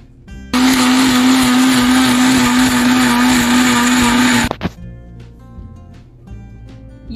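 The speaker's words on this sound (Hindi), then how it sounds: "और फिर इसको मिक्सर में मिला लूंगी" A mixer grinder whirs loudly and steadily for about four seconds, blending spice paste with water, then cuts off abruptly, leaving quieter kitchen sounds behind.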